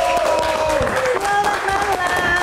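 Applause from a live meet-and-greet audience welcoming a guest star, a continuous wash of clapping under loud music and voices that runs throughout at moderate level.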